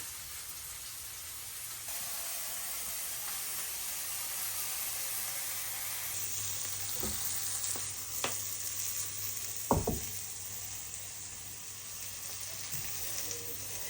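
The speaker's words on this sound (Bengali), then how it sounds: "সবজিটা দিয়ে ভালোভাবে একটু কষায় নিয়ে" Vegetables with green chillies and onions frying in a pan, a continuous close sizzle with a few sharp clinks and scrapes of stirring near the end, no talk.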